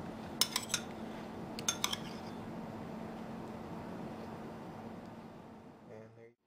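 Light clinks and scrapes from a large spoon scooping a shrimp filling into the pit holes of avocado halves, a few sharp taps near the start and again midway over quiet room hum.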